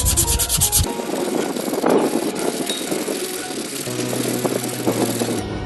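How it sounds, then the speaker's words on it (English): Close, continuous abrasive rubbing as 400-grit sandpaper is worked back and forth over the drum brake pads of a car's rear drum brake, steady and loud throughout. "I will going to use a little bit abrasive sandpaper to clean this"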